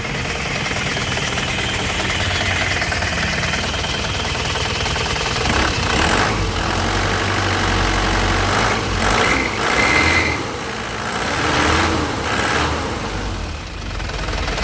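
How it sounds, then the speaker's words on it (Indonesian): A 2009 LS Turbo engine runs at a steady, close, loud idle throughout, with a continuous rumble and faint ticking, unchanging in level. "Sekarang kita nyalakan mesinnya lur"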